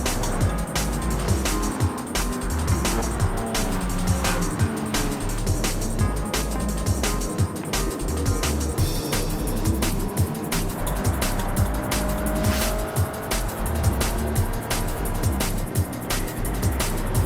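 Race cars running on a circuit in a Challenge Series race, a dense, loud, continuous roar of engines with rushing noise and frequent sharp crackles, steady throughout.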